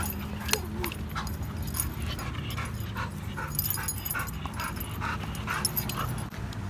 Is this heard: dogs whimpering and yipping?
yes